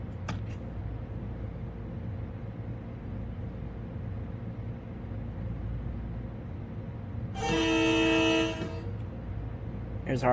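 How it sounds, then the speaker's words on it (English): A train horn sounds from inside the locomotive cab, one loud sustained blast of about a second over a constant low engine rumble. "Here's our horn."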